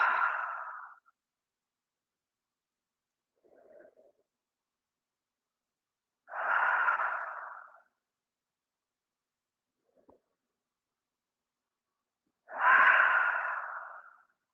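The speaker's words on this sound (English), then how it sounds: "Let's take 2 to 3 breaths in through the nose and maybe sigh it out of the mouth." Slow deep breaths during a yoga session, inhaled through the nose and sighed out through the mouth, three long audible exhalations spaced several seconds apart with faint quieter inhales between.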